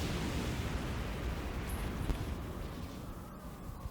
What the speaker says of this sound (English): Nice explosions.